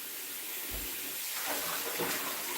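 Running water splashes steadily as freshly cut garden vegetables are washed, a close hissing rush with a few soft thuds and sloshes.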